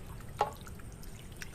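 A single small drip of water falls near an outdoor tap area where fish are being washed, a brief close plop against a quiet background, followed by faint trickling.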